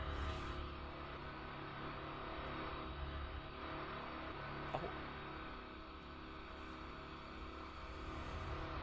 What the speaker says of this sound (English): Engine noises from inside the cooldown room.